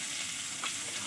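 Sliced onions fry in hot oil with panch phoron spices, a dense, even sizzle heard close and alone for a brief moment.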